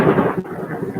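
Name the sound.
thunder from a lightning bolt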